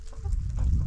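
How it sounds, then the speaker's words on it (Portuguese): Chickens cluck close by on a small farm in Ipuiúna, a quick burst of short clucks over a low rumbling background. "Pouca galinha, né?"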